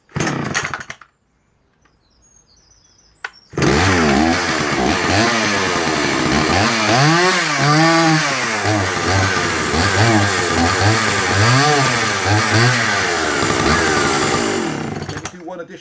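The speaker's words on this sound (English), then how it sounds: "Gorgeous running engine, beautifully made saws" A Dolmar 119 chainsaw engine starts and runs loud and close, its pitch rising and falling in repeated revving surges over a steady idle after a short quiet pause.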